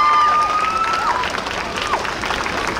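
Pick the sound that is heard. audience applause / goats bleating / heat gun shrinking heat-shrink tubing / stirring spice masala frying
audience applause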